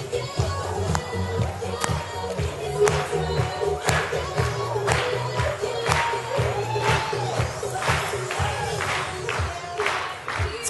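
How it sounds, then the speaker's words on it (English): Audience in a motivational talk hall claps along in a steady rhythm over music, a dense crowd of hands beating together with scattered cheers, loud and continuous throughout. "Now clap with me."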